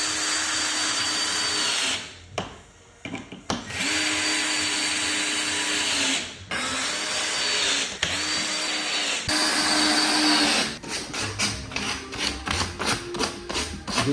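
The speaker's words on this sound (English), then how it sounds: "I just want to sand it down a tiny bit because we're going to put the fabric over later" A power sander works a wooden corner bass trap frame in a studio build, loud steady whirring cut by several brief pauses, then a choppier run of short bursts toward the end.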